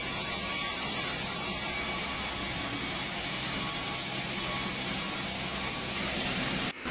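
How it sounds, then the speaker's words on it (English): A vertical saw blade cuts steadily through timber in a factory, making a continuous loud rasping, grinding noise that stops abruptly at the end. "The vertical saw blade glides effortlessly through the timber"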